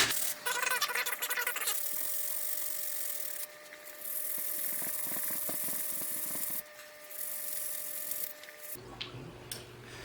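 Sandpaper of 120 grit scrubs calcium corrosion off a battery in close, rasping strokes, coming in several bursts separated by short pauses, faint and without talk.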